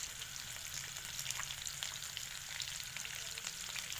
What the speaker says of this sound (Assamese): এতিয়া ইয়াতে মই কাটি থোৱা পিঁয়াজকেইটা দি দিছোঁ। আৰু ইয়াতে মই আদা নহৰু পেষ্টটো দি দিছোঁ।